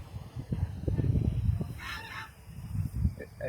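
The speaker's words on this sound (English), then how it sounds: "It's an angry goose." An angry goose honks in bursts outdoors, a few harsh calls rising above a rumbling, gusty background of wind and handling noise.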